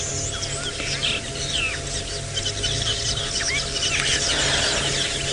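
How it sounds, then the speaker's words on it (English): Birds chatter and chirp constantly in the background on a sunset safari drive, many overlapping calls over a low steady hum. "Can we hear all the bird chatter in the background?"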